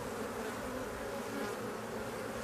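Honeybees swarming around an open beehive during a spring frame inspection, a dense, even buzz of many insects, faint but continuous, with no voices.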